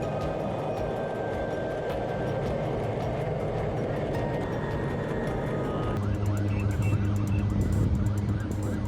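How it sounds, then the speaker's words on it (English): Blue Angels jets make a low-flying pass at the Buffalo Waterfront Air Show, a loud continuous roar that builds toward the end, with a voice talking over it. "the Blue Angels dropped a low-flying stunt at the Buffalo Waterfront Air Show"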